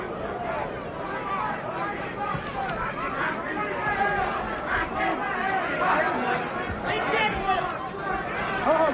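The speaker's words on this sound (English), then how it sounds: "crowd booing the tactics of Tony Tucker" A large boxing crowd at the Mike Tyson versus Tony Tucker fight fills the arena with a steady, dense roar of voices and disapproving noise.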